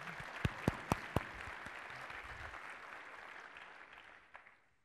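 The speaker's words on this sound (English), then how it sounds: "Round of applause, please." A handful of distinct claps opens into a brief, fairly quiet round of audience applause at a tech conference session, fading out with a last stray clap.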